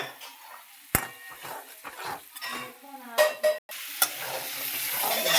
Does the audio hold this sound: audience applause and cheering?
no